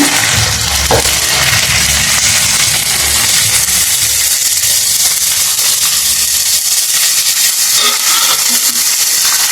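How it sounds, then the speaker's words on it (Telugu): Beef pieces hit hot ginger-garlic masala in a pan, giving a loud continuous sizzle and hiss that stays steady throughout, close up. "ఇప్పుడైతే మాంసం వేస్తున్నాను"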